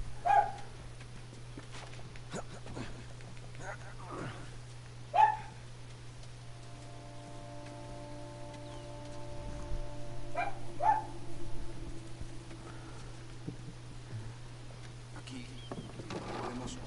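Dogs bark at a distance in a game set in a ruined, post-apocalyptic world, with a few sharp, scattered barks spread over a steady low hum and a faint tone.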